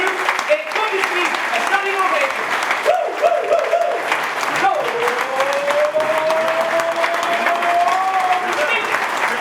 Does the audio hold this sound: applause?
yes